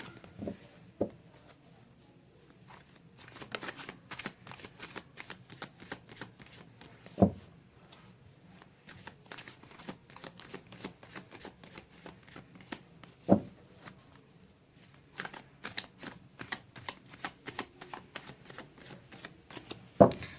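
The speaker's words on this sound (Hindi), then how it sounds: "मैंने कर ली है गाइस कार्ड की सफलिंग।" Tarot cards being shuffled by hand, a steady run of soft riffling flutters and papery slaps with a few sharper taps, close and fairly quiet, with no talking.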